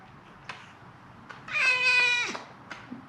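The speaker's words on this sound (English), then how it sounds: "That's my cat." A pet cat named Nova gives one drawn-out meow while being picked up, close and clear, framed by soft rustling handling noises.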